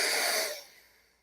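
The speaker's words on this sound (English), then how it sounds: "Nadi Shodhana breathing in through the nose, out through the other nose" Nasal breathing in the Nadi Shodhana alternate-nostril style, one close, breathy airflow that fades out over about a second with no talking.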